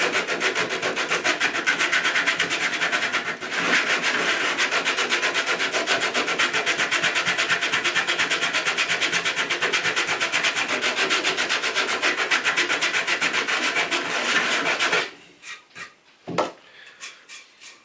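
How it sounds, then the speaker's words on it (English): Sandpaper wrapped around a wooden offcut rubs steadily back and forth across the wood of a broken table leg, a dense rhythmic rasping that runs for about fifteen seconds before stopping, followed by a few light knocks. "So just a simple offcut like this with the sandpaper wrapped around it will help to keep that flat as we just clean it up"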